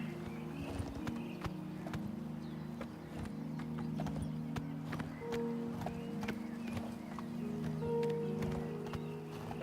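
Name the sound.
horse galloping in a video game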